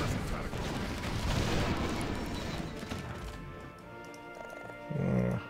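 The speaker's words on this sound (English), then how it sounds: "Melee combat with mortars" Mortar fire in a Warcraft 3 melee battle: a dense spread of booming blasts and crashes through the first few seconds, tapering off, then one more short burst near the end, loud and close.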